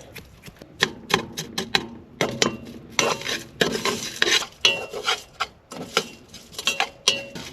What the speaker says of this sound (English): I'm gonna crush some Ritz crackers with some butter